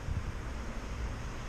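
Steady low rumble of wind buffeting outdoors on a cloudy day, a constant broadband roar with no other sounds, short and fairly close.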